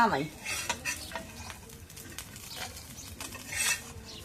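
Bhagna fish fries in a pan with a soft, steady sizzle. Occasional scrapes and clinks of a utensil stirring cut through, all fairly quiet with no one speaking.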